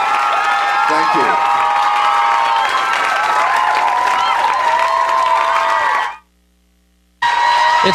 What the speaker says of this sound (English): It's the applause.